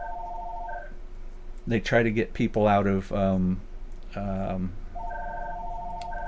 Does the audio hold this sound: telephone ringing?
yes